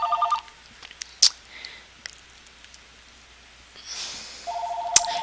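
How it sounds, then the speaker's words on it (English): A mobile phone rings quietly in an indoor room, with two short bursts of a repeating electronic ringtone at the start and end separated by a near-silent stretch with faint clicks. "Sorry, my phone is ringing."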